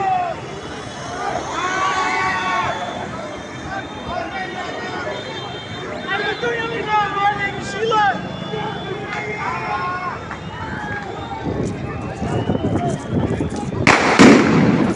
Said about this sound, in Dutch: Maar het vuurwerk blijft vliegen, de stenen blijven vliegen.